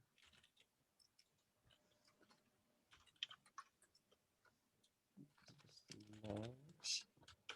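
Rapid, uneven keystrokes on a computer keyboard while entering commands in a terminal, soft and close, with a voice talking briefly near the end.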